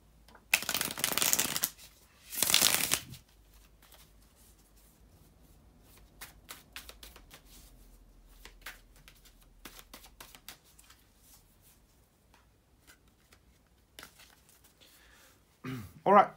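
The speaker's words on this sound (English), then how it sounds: "bear with me just a second, guys, to shuffle the tarot cards" Tarot cards being shuffled in two quick riffling bursts near the start, followed by quiet handling sounds and a brief rustle at the end.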